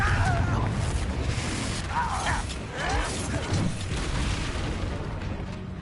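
Booming fire spell blast amid dense wizard-duel combat noise in the video game Hogwarts Legacy, loud and continuous with rumbling impacts and mechanical clatter, and a voice faintly underneath.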